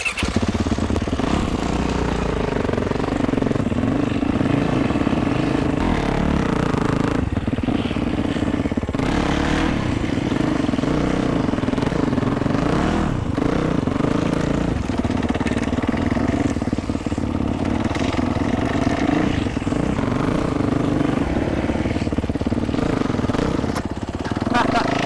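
A motorcycle engine runs continuously through a stoppie attempt, a steady mid-range drone with clattering and light revving, with people talking over it.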